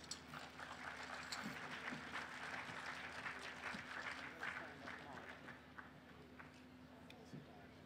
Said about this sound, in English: Please join me in welcoming them with a big hand